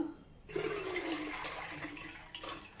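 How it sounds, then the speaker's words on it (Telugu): Water pours and splashes steadily as washed black-eyed peas drain in a strainer, a broad rushing wash that keeps going after a sudden start, close and fairly loud. "వాటర్ అంతా డ్రైన్ అయిపోతుంది"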